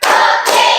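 A classroom of pupils claps together during a clapping game, one short dense burst of many hands that swells and briefly dips before a second wave, loud and close with no talking.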